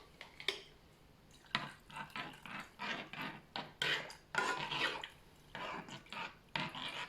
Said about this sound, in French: Donc, on remue bien.